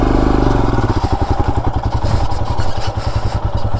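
A motorcycle climbing an uphill rural track on a weekend ride, its engine loud and close with a rapid pulsing thump and clatter that swells and labours throughout.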